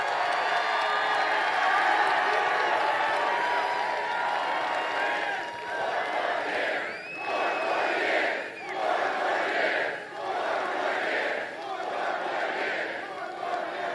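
A large outdoor crowd at a campaign rally in Latrobe, Pennsylvania, cheers and shouts continuously, with swelling waves of roaring voices and whoops rising and falling throughout.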